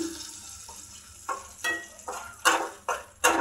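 Small hilsa fish with roe cooking with sponge gourd in a pan: a soft background sizzle broken by several sharp, loud stirring scrapes and splutters at irregular intervals, close up and without talk.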